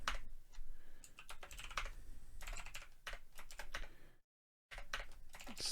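Fast, steady clicking on a computer keyboard while filling in an Excel spreadsheet for a movie collection catalog. The typing is quiet and close, with irregular bursts and one brief silent pause.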